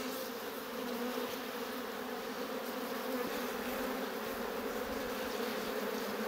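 Honeybees buzz steadily around an open beehive as it is worked, a close, continuous droning hum with no talking.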